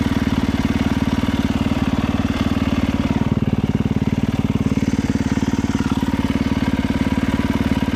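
Motorcycle engine idling steadily and close by, a continuous low chugging throb with no revving and no voices.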